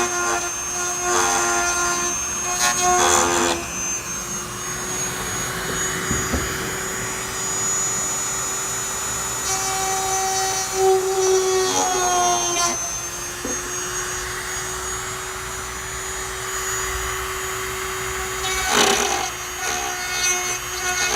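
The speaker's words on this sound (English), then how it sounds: "I'm going to grind my way along essentially to make a little trough and roughen things up" A power tool grinds a trough into putty on an Aston Martin windscreen washer reservoir, giving a steady whining buzz with rasping bursts, close and continuous, heard alone.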